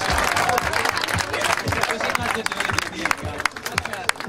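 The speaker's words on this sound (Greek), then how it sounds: "Χειροκρότημα για τον Παπαδάκη Γιάννη." Crowd at a charity football match applauding a player, sustained loud clapping with crowd babble and voices mixed in throughout.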